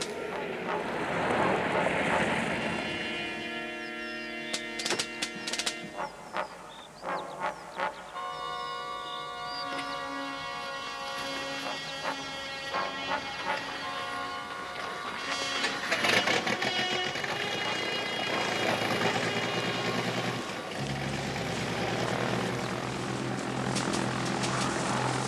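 A propeller airplane engine runs steadily on the ground before takeoff, a loud droning hum with layered tones and shifting pitch, close by and unbroken, with no talk over it.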